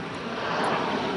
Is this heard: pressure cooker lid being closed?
no